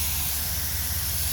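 A steady, loud hiss of a spray wash jet cleaning the wiper fluid pump from a 2014 Ford Escape, unbroken and close for its whole length.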